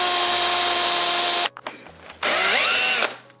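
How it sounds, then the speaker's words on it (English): A power drill turns a small 3/8-inch Forstner bit into the back of a wooden fridge magnet, whining loudly for about a second and a half, pausing briefly, then running again at steady pitch. "I've got a little Forstner bit that's 3/8. So all I have to do is just drill in the back."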